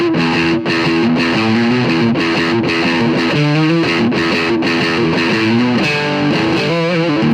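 Heavily distorted chords and riffs from a 1985 Gibson DC400XPL electric guitar on its lead and middle pickups combined, loud, sustained and steady with no voices.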